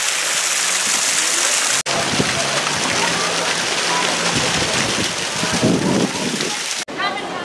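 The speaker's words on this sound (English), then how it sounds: "Got a lovely waterfall." Decorative waterfall at the Discovery Cove marine park in Orlando, Florida, pouring as a steady, fairly loud splashing rush that runs almost the whole stretch, with some faint background voices mixed in.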